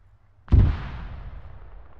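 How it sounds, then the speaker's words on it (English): A single heavy explosion from bombing in a video game, a sudden deep boom followed by a long rumbling decay, loud and alone without speech. "Oh, the guy's getting the shit bombed out of them."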